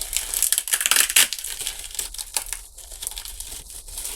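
Hands tear and crumple at a heavily taped plastic parcel up close, giving bursts of crinkling and ripping that ease into quieter rustles.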